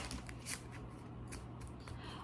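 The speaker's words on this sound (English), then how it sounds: "I'm gonna shuffle." A deck of tarot cards being shuffled by hand, quiet soft riffling and flicking bursts repeating close by for about two seconds with no talking.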